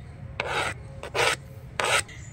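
Poppy seeds and black mustard being ground into a fine paste make three separate, rough scraping strokes up close, each under half a second, with short quiet gaps between them.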